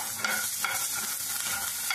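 Fresh curry leaves crackle and sizzle in a hot pan as a utensil stirs them, the scraping strokes coming as soft rhythmic bursts over a steady frying hiss.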